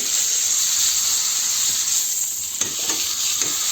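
Rump steak sizzles steadily in a hot pan as its fat renders, a loud continuous frying hiss with a few faint scrapes near the end and no talking.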